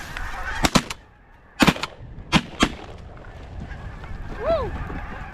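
Shotgun blasts ring out during a goose hunt in Manitoba, five loud sharp reports in two clusters, followed by honking geese calling nearby.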